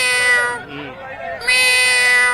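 A man imitating a cat's meow, giving two drawn-out, wavering mewing calls close up, with crowd murmur from a bathing gathering at a large religious festival in the background.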